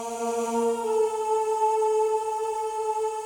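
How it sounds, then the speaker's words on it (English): Digi Choir vocal sample layered over an experimental trap beat, sustained synthetic choir chords holding steady, loud and close, with no drums or talking audible. "So these vocals are called Digi Choir and Expand."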